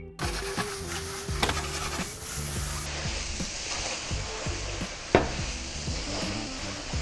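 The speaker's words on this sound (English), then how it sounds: "I put the mushroom in. Sear it a little bit to golden brown." Sliced mushrooms searing to golden brown in melted butter in a pan, a steady broadband sizzle running throughout with occasional stirring clatter and one sharper knock, no talking.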